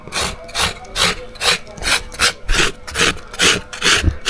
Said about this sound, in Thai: นี่ค่อยๆขูดไปนะครับอย่าขูดแรง ถ้าขูดแรงอ่ะมันจะเข้าเนื้อข้างใน